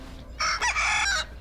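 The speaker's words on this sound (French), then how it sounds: "il s'agit du caquettement d'un jeune poulet de l'espèce Gallus gallus domesticus indigène à la Terre" A young domestic chicken gives a short, bright clucking call, one brief burst of about a second, close and clear over a faint low hum.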